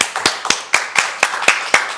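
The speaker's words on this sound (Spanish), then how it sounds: "Así que vamos a recibir a Lucas primero con un aplauso." A television studio audience welcomes a guest with clapping in unison, about eight sharp, evenly spaced claps in quick, steady rhythm, close and clear with no talk.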